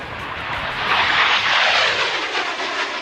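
A Cessna airplane engine runs at ground idle, a steady, loud, broadband roar that holds constant throughout with no voices over it.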